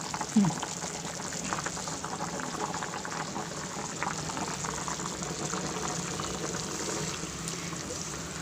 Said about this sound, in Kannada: ಸೊ ಈಗ ಚೆನ್ನಾಗಿ ಬಾಯ್ಲ್ ಆಗ್ತಾಯಿದೆ